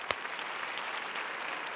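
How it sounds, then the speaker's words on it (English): Studio audience gives a round of applause, a brief spell of soft, even clapping that sounds somewhat distant and continues steadily for under two seconds after one sharper knock at the start. "Round of applause."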